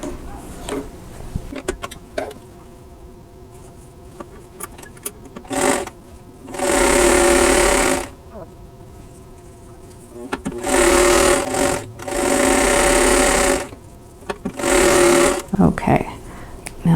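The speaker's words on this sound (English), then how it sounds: "Then I'm going to sew squares to the other 2 corners too." Home sewing machine stitching squares onto the corners of a quilt block, three loud whirring bursts of fast steady stitching with pauses between, close up, and someone talking in the quiet gaps.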